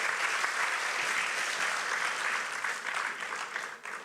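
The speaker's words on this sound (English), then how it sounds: "Can I get another round of applause for all of the speakers today?" An audience applauding speakers at a youth empowerment talk, a dense, continuous wash of many hands clapping that stays strong before easing off toward the end.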